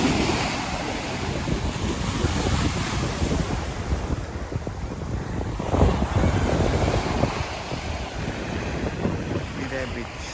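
Ocean surf rolls steadily onto Mirya beach in Ratnagiri, a continuous broadband wash of waves mixed with gusty wind buffeting the microphone, with faint voices in the background.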